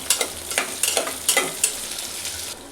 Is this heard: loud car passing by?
no